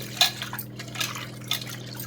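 Water poured over raw prawns in a bowl to wash them, splashing and trickling in irregular bursts close by, with a steady low hum underneath.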